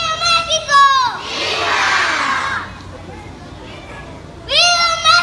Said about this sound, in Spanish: Cuando dan el grito en el kinder.